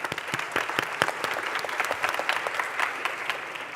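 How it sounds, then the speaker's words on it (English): An audience at a startup pitch competition claps steadily for several seconds, giving a dense, even round of applause with a few sharper individual claps standing out. "Round of applause."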